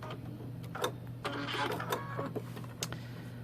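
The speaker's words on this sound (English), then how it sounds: "now I'm going to do the knotting stitch" A sewing machine runs a knotting stitch on a quilted trivet, a close, steady mechanical whir with rapid ticking needle clicks in short runs and a faint underlying hum.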